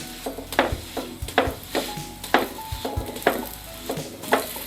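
Wheat Kerala porotta cooking with a little oil on a hot pan: a steady soft sizzle broken by regular knocks and clatters about once a second as it is flipped and pressed, with no talking.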